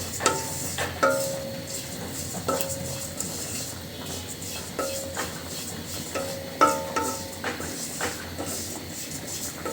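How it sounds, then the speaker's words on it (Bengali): Sesame seeds dry-roasting in a pan for a sesame mash, with a steady low sizzle under repeated scraping and light clinks as a utensil stirs them, close and without talk. "তিল যখন ফুটতে শুরু করবে, তখন কিন্তু তিলের গা থেকে তেল ছেড়ে দিবে।"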